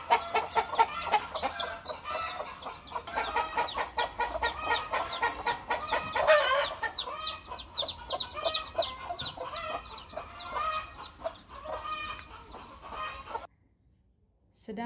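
Chickens cluck and call with rooster-like bursts in a busy, fairly close flock, steady and dense for most of the stretch before dropping away near the end, with no one talking.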